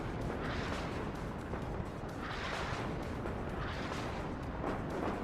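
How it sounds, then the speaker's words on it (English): Artillery fires in the video game WARNO, heavy rumbling booms rolling one after another over a dense, continuous battle roar. "What is that artillery firing at?"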